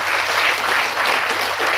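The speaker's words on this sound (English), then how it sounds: "one big round of applause to Yan Shiv" Audience applause at a college event, a loud, dense and continuous burst of clapping from a crowd, steady in intensity with no talking over it.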